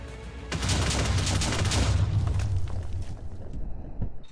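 TNT blocks from the Mine and Sorcery mod blowing up in the VR game Blade and Sorcery, a loud close burst of rumbling explosions that rolls on and fades over several seconds.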